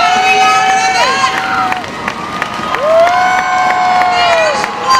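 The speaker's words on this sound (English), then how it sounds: "The louder you folks cheer, scream, and holler, the higher she's gonna go." A theme park audience at Universal Studios cheers and screams in a loud, sustained roar, with a few long shrill screams rising above the crowd noise.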